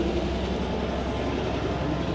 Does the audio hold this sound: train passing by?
yes